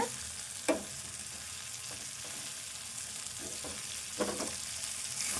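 A dried fish and brinjal curry fries in a pan under a constant loud sizzle, while a spoon stirring it scrapes and knocks against the pan several times at irregular moments.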